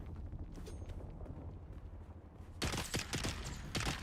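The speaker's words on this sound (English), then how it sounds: "What are you doing shooting at me, sir?" Enemy gunfire in the video game Dune Awakening, a dense burst of rapid crackling shots that erupts partway through after quieter game ambience, loud and sustained to the end.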